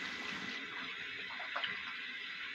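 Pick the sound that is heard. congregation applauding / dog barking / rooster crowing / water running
water running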